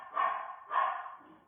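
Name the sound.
dog barking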